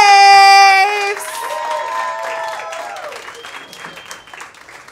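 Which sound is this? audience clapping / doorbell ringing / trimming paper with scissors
audience clapping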